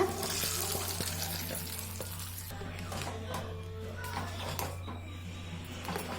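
Cashews and raisins fry in ghee for sweet pongal, a steady soft sizzle with occasional stirring scrapes over a low constant hum, close and fairly quiet.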